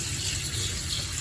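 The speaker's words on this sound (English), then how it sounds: "I'm just gonna like rinse out the water." Water rinses out of a pet enclosure's water dish with a steady, close gushing splash, like a tap running, continuous and without talk.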